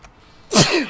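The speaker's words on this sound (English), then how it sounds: "Oh god, I gotta sneeze." One sudden, loud human sneeze bursts out after a brief quiet pause and then trails off into a short exhale.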